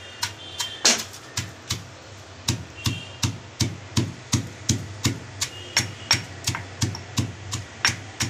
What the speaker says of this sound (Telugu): రొయ్య పొట్టు వేసుకొని కొంచెం కొంచెంగా దంచుకొని పక్కకు తీసుకోవాలి.